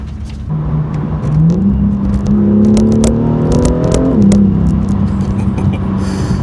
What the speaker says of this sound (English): Here's that sweet exhaust